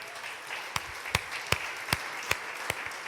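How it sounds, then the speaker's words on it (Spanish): A church congregation applauds during a sermon, soft ongoing clapping under which a few sharp, louder claps land near the microphone at a roughly steady beat. "Dale un aplauso al Señor."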